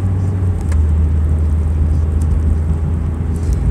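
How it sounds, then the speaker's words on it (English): A black 2004 Dodge Neon driving, a steady low engine and road rumble with a slight shift in tone early on, continuous and close with no talking. "my car is a black 2004 Dodge Neon"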